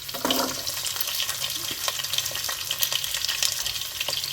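Cumin seeds and garlic sizzling in hot oil while chicken rasam is cooked, a steady close crackling hiss that continues throughout with only brief faint sounds from the kitchen.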